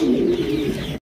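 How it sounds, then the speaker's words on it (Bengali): White King pigeons coo in a steady, throaty murmur, close and fairly loud for about a second before cutting off. "এটা হচ্ছে হোয়াইট কালারের কিং কবুতর"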